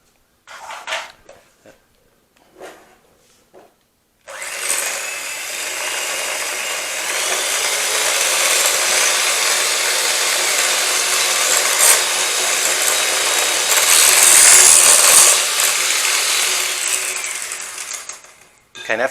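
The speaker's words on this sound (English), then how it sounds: "we are going to whisk that up, and we're going to make our cake mixture." An electric whisk mixes self-raising flour into upside-down pineapple cake batter, a loud, steady motor whir running about fifteen seconds after brief talk at the start.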